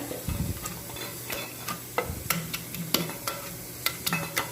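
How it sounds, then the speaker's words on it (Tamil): Dried red chillies fry in hot oil in a pan for ridge gourd kulambu. Scattered sharp crackles and pops come close, with a low stirring scrape at the start and intermittent spits and ticks throughout. "காஞ்ச மிளகாய் எண்ணெயில் வதங்கந்து நல்லா இதை எடுத்துக்கோங்க."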